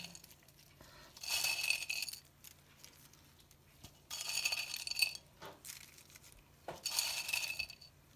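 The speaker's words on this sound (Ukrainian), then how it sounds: "зараз я викладаю сухарики" Dry croutons are scattered onto a layered tuna and kiwi salad with mayonnaise, giving three separate bursts of crisp, clinking rattles a few seconds apart, close and fairly quiet.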